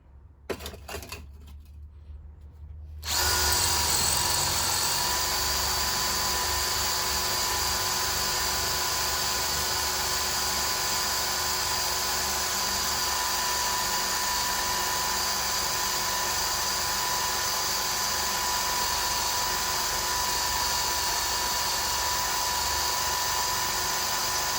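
A power drill grinding steadily through material in a home shed workshop, loud and continuous for over twenty seconds after a quiet few seconds at the start.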